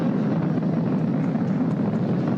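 SpaceX Falcon 9 rocket engines throttling back up to full power during ascent after max dynamic pressure, a steady, loud broadband roar with no breaks and no voices.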